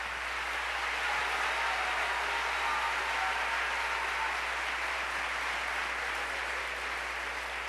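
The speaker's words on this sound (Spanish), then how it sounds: "Todo el que es salvo, dele un aplauso fuerte a ese Señor de alegría, de gozo." Church congregation applauds loudly and joyfully during a sermon, a dense, continuous wash of many hands clapping at once, even and sustained throughout.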